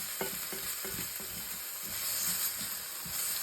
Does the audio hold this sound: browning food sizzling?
yes